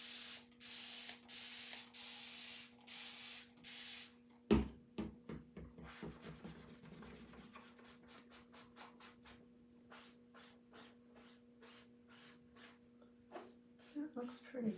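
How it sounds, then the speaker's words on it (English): Water sprayed onto a Chalk Couture transfer in a rapid series of short hissing squirts, followed by rubbing and tapping sounds as the surface is worked, close and quiet. "Spray this side."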